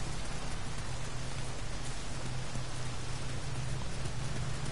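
Steady rain pours down in the action game Nioh, a dense, even hiss of drops on surfaces with a low rumble beneath, constant and fairly close throughout with no voices.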